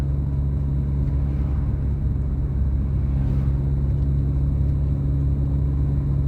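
A car slowing gently to a stop during a driving lesson, a steady low engine and road rumble holding at an even level throughout with no voices.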